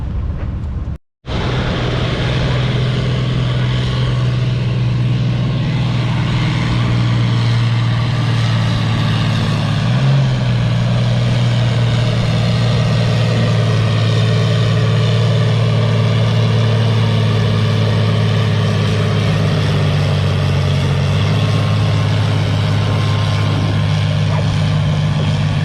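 A WD 45 tractor engine at the spring tractor pull in Lynden drones loud and steady for the whole stretch, a deep, sustained low rumble that barely changes, after one brief cut at the start.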